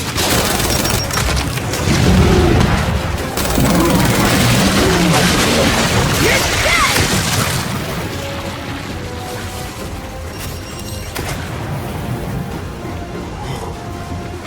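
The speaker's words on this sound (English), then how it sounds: "Does every carrier burst apart like that?" In the Gears 5 video game, a carrier bursts apart in a loud, booming explosion with crackling debris and rumbling aftermath that gradually settles into a lower roar.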